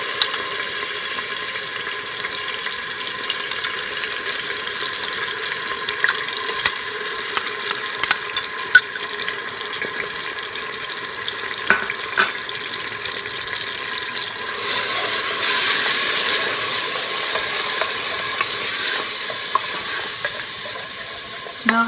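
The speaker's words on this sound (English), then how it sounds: "So in goes my onions and anaheim mixture." Onions and Anaheim peppers frying in a pressure cooker pot for meat curry, a continuous close sizzle with scattered clicks and scrapes of stirring, with no voices.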